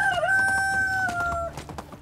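Chickens at a coop in the medieval farming game Medieval Dynasty, with a rooster crowing loudly up close and scattered clucks following as the call trails off.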